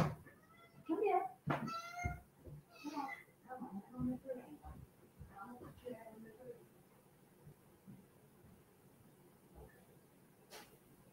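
An elderly 16-year-old cat meows repeatedly at close range in a home, with several insistent calls over a few seconds while a person talks nearby.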